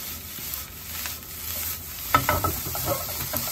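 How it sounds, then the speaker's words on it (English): Spring onion is stirred briefly through red sea bream in a hot pan, with a soft sizzle underneath and a burst of scraping, clattering stirring near the end. "And then basically give it a quick stir."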